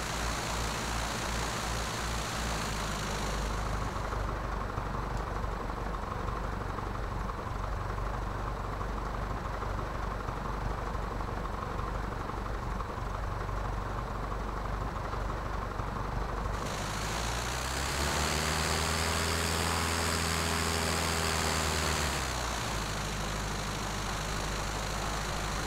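An aircraft engine in Microsoft Flight Simulator X drones continuously and loudly, its pitch and tone shifting as the throttle changes, with no talk.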